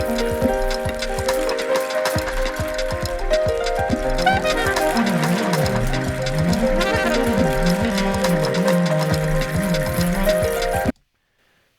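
Bridge section of a Kennebec track, with a smooth saxophone melody gliding over a watery, rippling piano part and a steady beat underneath, full and continuous until it cuts off abruptly near the end.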